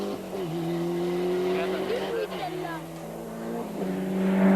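A rally car at the 1991 Rallye Mont Blanc, its engine sick and running on three cylinders: a rough, droning engine note with shifting pitch, fairly loud and close, with a voice talking over it.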